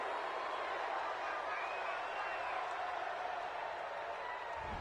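Stadium crowd noise in the Madden 20 football video game, a steady roar and cheer from the home crowd after a call, continuous and fairly loud throughout.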